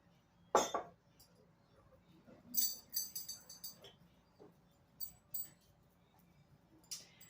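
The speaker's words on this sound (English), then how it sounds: "I will place my teapot on this side as well." On an elegant table set for one, a pot is set down among glassware with several light, bright clinks and taps spread out in a quiet room.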